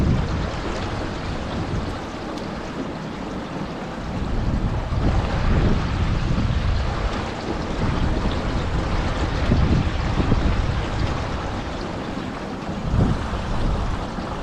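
A sailing dinghy cruising under a bridge on the River Dee, with steady wind buffeting the microphone and a continuous wash of water and hull noise, loud and close, with no talking.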